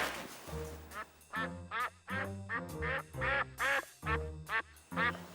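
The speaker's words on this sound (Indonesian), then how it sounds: "Suaranya bebek." Several loud, nasal duck quacks in rapid, uneven bursts come close by at a duck pen beside a house, running continuously with short gaps and no talking.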